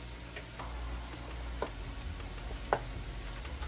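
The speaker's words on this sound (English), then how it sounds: "Let's get those stirred up like so." Shrimp seasoned with Creole seasoning sizzles steadily in a pan while being stirred, with a couple of sharp utensil clicks against the pan over the soft continuous frying hiss.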